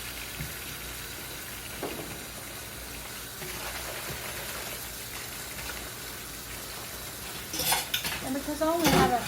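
Dishes, pots and pans are washed in a home kitchen sink with running water. Soft clinks of crockery and cutlery give way to louder, busier clattering near the end.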